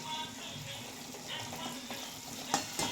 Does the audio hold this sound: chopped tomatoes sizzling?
yes